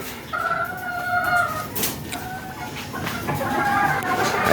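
Chickens on a Filipino farm cluck and call in drawn-out, wavering notes, several birds close by, repeating over a steady outdoor background.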